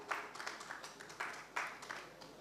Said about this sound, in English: A round of applause for him as he comes up.